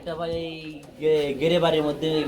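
Spanish pigeons cooing close by in low, throaty, repeated calls that run almost continuously, with the sound swelling partway through.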